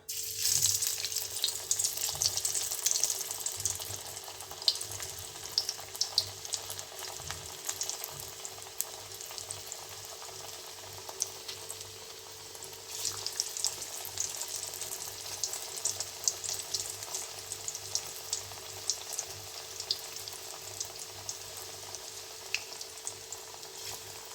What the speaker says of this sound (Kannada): ಎಣ್ಣೆಗೆ ಬಿಡಬೇಕು ಈ ಥರ